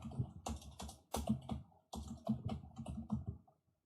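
Bursts of rapid keyboard typing, clattering in several quick runs separated by short pauses, close to the microphone with no voices.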